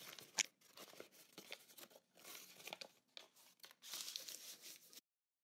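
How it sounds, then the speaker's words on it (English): Paper map crinkling and crunching as it is crumpled into a wad, a run of quiet, irregular rustling bursts lasting about five seconds, close by and with no talk. "crumpling it up into a wad and then opening it back up"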